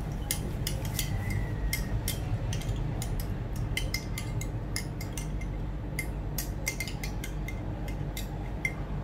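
A spoon clinks steadily against a glass while stirring a drink of a dissolved effervescent tablet, sharp repeated taps over a soft background hiss, close by and without speech.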